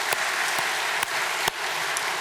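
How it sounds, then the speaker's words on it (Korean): A church congregation at a Sunday worship service claps together, a steady wash of applause filling the hall with a few sharper individual claps standing out. "우리 감사의 박수를 한번 올리지 않겠습니까?"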